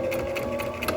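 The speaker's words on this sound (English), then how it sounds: "we're just simply going to sew both raw edges to create that envelope, reinforcing the corners" A sewing machine stitching the raw edges of a home-sewn fabric mask, a close, continuous rapid mechanical whir with a fast regular pulse.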